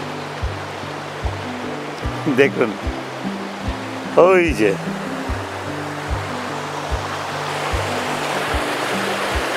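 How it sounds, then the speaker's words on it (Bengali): Steady broadband rush of water falling at Mandaya Falls, a continuous wash under a regular low rhythmic thumping, with people talking over it in places. "দেখুন জল নেমে আসছে ওপর থেকে"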